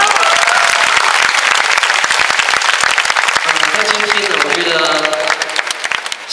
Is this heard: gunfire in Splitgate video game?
no